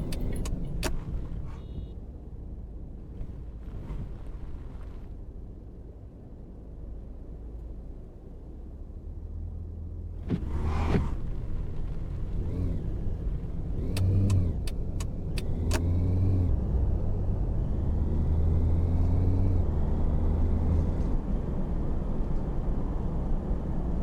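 A car drives at night in the taxi-driving game Taxi Life. A low engine rumble runs throughout, with a few sharp clicks and brief rises where the car accelerates, and nobody talks.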